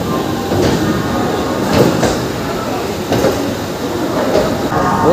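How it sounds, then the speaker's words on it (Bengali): A Howrah–Haldia local train pulls out of Howrah station, its steady loud rumble of wheels and carriages filling the space with faint clattering bursts throughout. "আমাদের হাওড়া হলদিয়া লোকাল হাওড়া স্টেশন থেকে ছেড়ে দিল 9:55"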